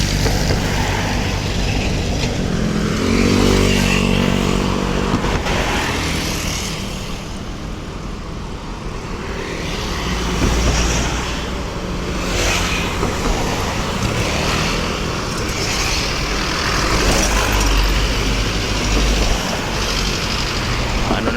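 Steady traffic of many vehicles passing by the Pasig Esplanade, a continuous roadway rumble that swells and eases as cars go by, with no voices.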